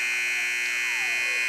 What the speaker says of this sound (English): The buzzer sounds, and that's the end of the third quarter.